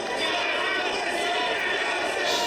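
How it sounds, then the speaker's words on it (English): A wrestling crowd at a World Series Wrestling show for Danhausen versus Sidney Akeem keeps up a dense, steady roar of chanting and cheering throughout, with a commentator's voice running over it. "We've got some Danhausen chants and we've got some Akeem chants as well"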